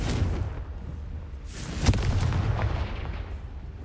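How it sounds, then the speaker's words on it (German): A Confringo explosion spell is cast in the video game Hogwarts Legacy, landing as one sharp boom partway through over a low rumbling game background. "Confringo!"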